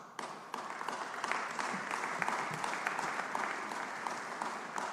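Steady crowd applause at a rally on child nutrition policy, many hands clapping together in a dense, even wash that begins abruptly and holds at moderate level.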